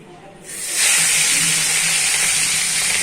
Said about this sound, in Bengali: চিংড়ি মাছটা আমি ভেজে নেবো।